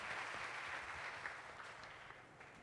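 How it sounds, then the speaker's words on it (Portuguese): A church congregation applauds at a family service, a steady wash of many hands clapping heard from a distance, softening slightly toward the end. "Pode aplaudi-lo"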